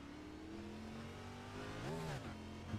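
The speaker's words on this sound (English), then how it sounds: "You can hear Beeman down through the gears into turn 1" The number 41 race car in a USA Pro Cup Series race at Circuit of the Americas brakes into turn 1. Its engine steps down through the gears in a sharp, rising-and-falling blip before settling, heard from a distance.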